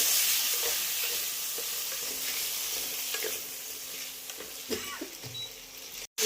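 Potatoes go into a frying pan of hot oil with cumin, panch phoron and dried chilli, giving a bright, close sizzle that settles as a spatula scrapes and stirs in scattered clicks, with no voices and a brief dropout at the end.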